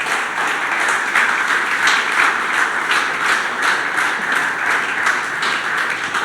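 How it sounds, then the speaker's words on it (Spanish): A church congregation applauding together during a service, dense continuous clapping from many hands in a room, steady and fairly loud without talk. "¿Por qué no le das un aplauso al Señor por eso?"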